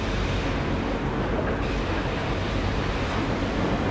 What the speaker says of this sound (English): It's a pretty active train area.